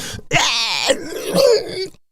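A person's voice imitates a throat being cut, with a harsh rasping choke followed by a strained, gurgling groan, brief and close.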